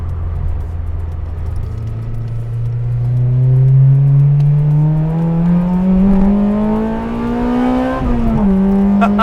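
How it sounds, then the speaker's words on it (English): A Honda Integra Type R DC5 fitted with a Skunk2 Megapower RR 3-inch exhaust and PLM header accelerates in sixth gear from 60 to 80, its loud droning engine note rising steadily in pitch, with a brief dip near the end. "I'm accelerating from 60 to 80, just like that on 6th gear"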